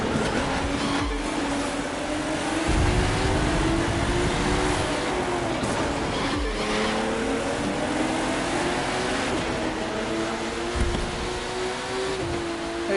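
A Honda NSX driven in the racing game The Crew 2, its engine note climbing repeatedly through gear changes with brief dips between shifts, steady and moderately loud throughout.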